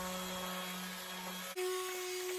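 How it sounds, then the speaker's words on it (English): The ends of a wooden rod are sanded with a power tool that gives a steady, close, droning whine; the pitch drops and shifts partway through as the tool changes load. "Sanding the ends of the rod."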